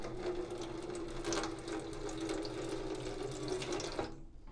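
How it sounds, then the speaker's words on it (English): Water pours steadily into a pan to about half a centimeter deep, a continuous splashing stream lasting several seconds before stopping abruptly. "I'm going to put in enough water so that it goes up to about 1/2 centimeter"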